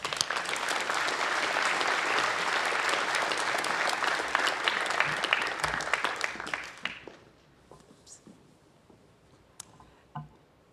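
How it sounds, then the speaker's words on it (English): A large crowd at a university presidential inauguration ceremony applauds steadily for several seconds, then the clapping thins out into scattered claps and fades away. "Won't you give them a round of applause?"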